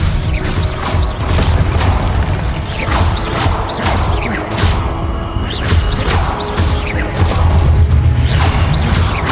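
Spell effects from the video game Hogwarts Legacy, with Expelliarmus being cast: loud, dense magical bursts and booming impacts with mechanical clanks, repeating through the clip over a constant low rumble.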